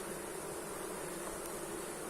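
Honey bees at an apiary hive give off a continuous, even buzzing hum, faint yet steady throughout, with no speech over it.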